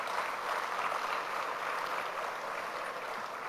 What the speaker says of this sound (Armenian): կարծում եմ արժի, որ մենք ծափահարենք մեր այսօրվա հարգելի նվիրատուներին